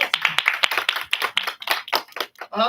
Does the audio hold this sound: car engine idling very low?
no